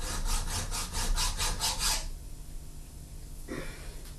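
A file removing a burr while a paper crafting press is being made: about seven rhythmic back-and-forth rasping strokes, close and loud, then stopping for a quieter stretch with one faint scrape.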